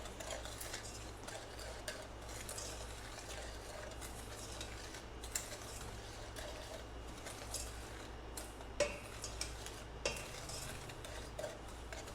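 A spoon stirs a flour, sugar and salt mixture in a pan for a pie filling, giving soft continuous scraping with occasional light clicks of utensil on metal, close but quiet, no voices.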